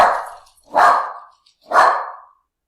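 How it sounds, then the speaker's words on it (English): A dog barks three times indoors, loud and close, with the sharp barks evenly spaced about a second apart and no talk over them. "So sorry about that. My dog."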